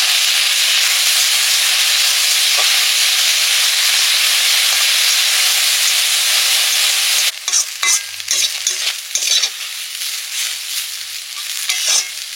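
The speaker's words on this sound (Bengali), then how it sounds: "কচু ফুলগুলো প্রায় ভাজা হয়ে গেছে।" Taro flowers fry in a pan with a loud, even hiss of hot oil. Partway through, the sizzle breaks into a rattle of stirring and scraping.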